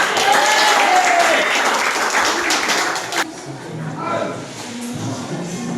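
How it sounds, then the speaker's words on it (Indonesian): A classroom of students claps their hands in steady, loud applause for a group, with shuffling and a clear drop in intensity partway through as the clapping thins out. "Tepuk tangan."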